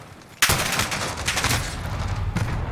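Gunfire in the shooter game Rust: a sudden loud shot followed by rapid, dense firing, close and harsh, with one more sharp report near the end.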